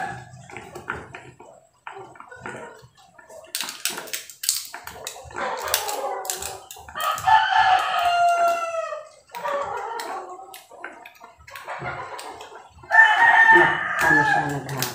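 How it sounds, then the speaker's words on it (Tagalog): Rooster crowing repeatedly at close range, several drawn-out calls mixed with clucks and clicking handling noises, with brief talk in between. "Manok."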